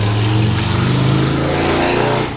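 A vehicle drives past on a busy, loud road, its engine roaring close and steady before dropping away sharply at the end.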